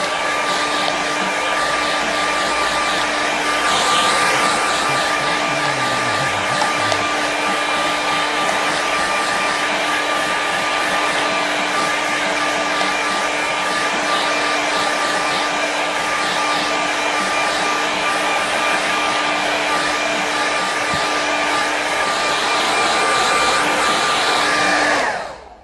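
A hair dryer runs loud and unbroken for about twenty-five seconds drying a watercolour painting, a constant close whoosh with a steady motor hum, then switches off at the end.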